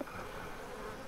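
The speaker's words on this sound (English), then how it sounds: "Steady on, bees." Farm beehives in Farmer Dynasty with bees giving off a soft continuous buzzing drone, quiet and even throughout, after a small bump at the start, with no speech.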